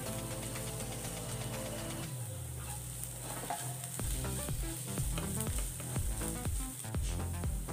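Onion, ginger garlic paste and turmeric sauté in a pan with a steady close sizzle. Intermittent scraping and tapping of a spoon stirring runs through it, and no voices are heard.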